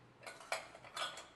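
A metal pressure cooker lid being removed after cooking a cake, quiet clinks and metallic scrapes in a few short bursts, close and faint.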